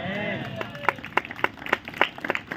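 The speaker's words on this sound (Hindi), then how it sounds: "बजा रहे हो तो पूरा ताली बजा" An audience claps at a church spiritual awakening festival in Udaipur, giving scattered, uneven hand claps that build into a ragged burst under ongoing talk and crowd murmur.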